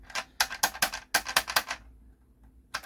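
Keys on an Atari 800 home computer keyboard pressed in a quick burst of about ten close, sharp clacks, a pause of near silence, then one more click, with no talk.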